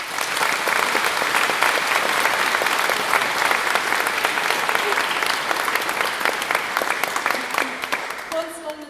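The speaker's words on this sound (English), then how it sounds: "a big round of applause for the community choir in Crosshaven" Sustained, dense applause from a concert audience for the Crosshaven community choir, loud and continuous before tapering off near the end.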